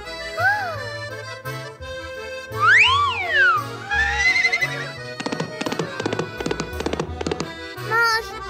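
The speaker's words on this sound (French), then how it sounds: "Un poney!" Cartoon pony sounds: rising and falling whistly whinny-like tones, then a quick rhythmic run of hollow clip-clop taps from hooves, loud and close, with bright springy effects.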